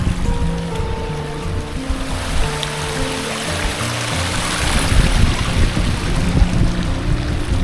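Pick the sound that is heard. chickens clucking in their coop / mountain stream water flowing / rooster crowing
mountain stream water flowing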